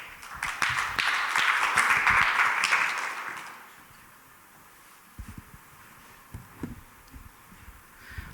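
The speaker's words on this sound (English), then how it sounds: "Please give him a huge round of applause." Audience applause for a man pioneering apple and cherry model orchards at a horticulture event, a burst of clapping for about three seconds that fades out, followed by quiet room noise with scattered taps and rustles.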